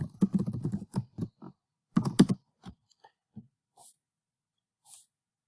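Someone types a sign-in email address and password on a computer keyboard: a quick burst of close key clicks, a pause, a second burst, then a few scattered single taps.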